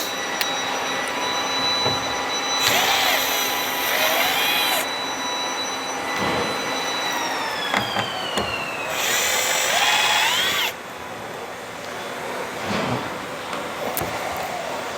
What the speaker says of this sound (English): now I'm going to remove these two drywall screws